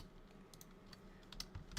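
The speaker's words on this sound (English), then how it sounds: "What the heck are you typing?" Someone types on a computer keyboard nearby, the keys tapping quietly and unevenly in short bursts over a faint background hum.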